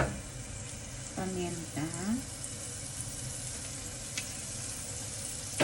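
Tomato frying in a pan for a simple home breakfast gives a steady low sizzle throughout, with brief clinks and stirring scrapes early on and a voice speaking over it.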